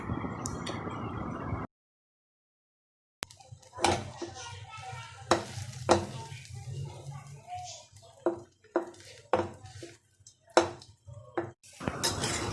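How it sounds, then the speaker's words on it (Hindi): A three-egg omelette with a little masala fries in hot oil. After a brief gap, the pan gives off an irregular run of spoon scrapes and metallic clinks over a soft sizzle, close by, with no clear talking. "यहाँ पे हम 3 अंडों का ऑमलेट बना लेंगे"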